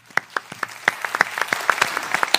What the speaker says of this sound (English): Round of applause for yet again another amazing radio show.